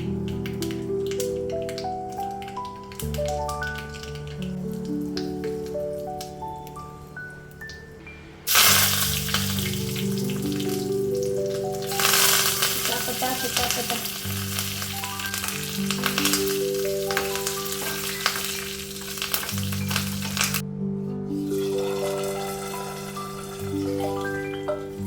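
Curry leaves and mustard seeds hit hot oil with loud, bright spitting and crackling that surges and fades in waves over a long stretch, heard close up under steady background music.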